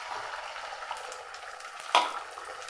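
A beaten egg cooks in hot coconut oil in a pan, giving a steady, fairly quiet frying hiss, with one sharper scrape of stirring near the end.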